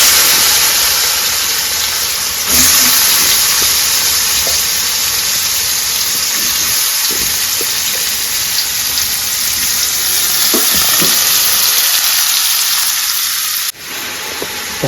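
Cauliflower frying in oil with cumin seeds for a Bengali cauliflower dish, a loud, continuous close sizzle with a steady hiss and occasional stirring knocks, a sudden drop in volume near the end.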